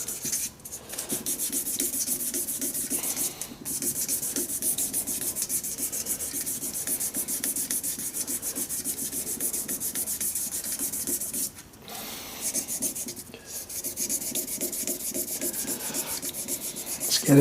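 Sandpaper works a turned wooden shaving brush handle on a lathe, a continuous close, loud, rough rubbing hiss with brief pauses around the middle, with no talking.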